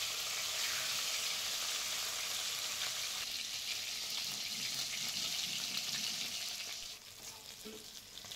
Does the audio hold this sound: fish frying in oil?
yes